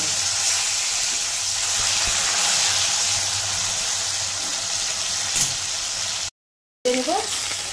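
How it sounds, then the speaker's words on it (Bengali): Steamed taro leaf rolls fry in hot oil, a steady close sizzle and hiss that runs on evenly, then cuts out briefly before resuming with faint clinks. "এখন ভেজে নেবো আস্তে আস্তে করে।"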